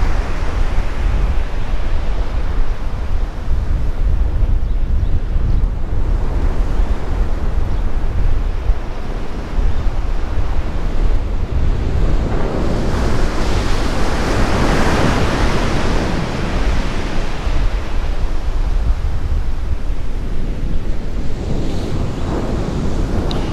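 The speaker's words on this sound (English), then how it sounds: "it's a little bit windy today." Strong wind buffets the microphone beside the sea on a cod fishing trip, with waves and surf rushing continuously and loudly throughout, no voices present.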